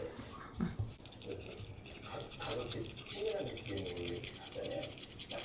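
A dog's teeth are brushed with a toothbrush, giving quick, close scrubbing strokes in uneven bursts while a person talks over them.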